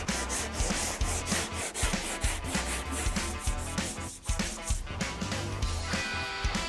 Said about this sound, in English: sand with some 36 on a hand block